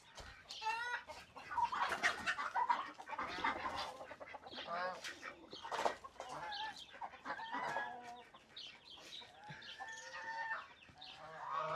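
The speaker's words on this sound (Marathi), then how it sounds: "ही टर्की बघा कसं येते." Chickens and a turkey clucking and calling steadily near a farmyard coop as they are let out, with overlapping bird calls throughout and no talk.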